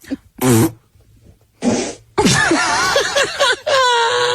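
Fart sounds during a studio comedy game of guessing a partner's fart, with short bursts alongside a voice imitating a fart in squeaky, wavering tones and then laughter, close and loud.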